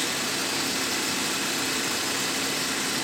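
A Wuling Confero van engine idles steadily after lubrication of a noisy tensioner, with a smooth, even hum and faint mechanical whir, no talking.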